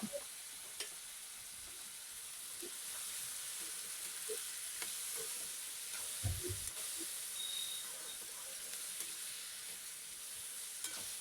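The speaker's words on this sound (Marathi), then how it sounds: "बटाटे आणि कांदा मस्त असा परतून घ्यायचा आहे" Potatoes and onion sizzle in hot oil with a steady crackling hiss, broken by occasional scrapes and stirring knocks.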